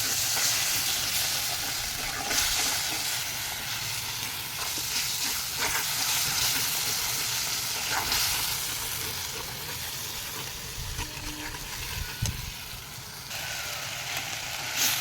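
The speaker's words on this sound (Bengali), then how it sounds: "এবার ভালোভাবে কষিয়ে নেব" Spices with turmeric fry in a pan for a Bengali raw jackfruit kofta curry, giving a continuous close sizzle with frequent stirring scrapes and occasional louder knocks, steady throughout and without any talking.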